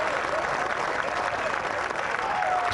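Golf gallery at the 2008 BMW PGA Championship roaring and applauding a hole-in-one, a loud, continuous wash of clapping and cheering from a distant crowd with no pause.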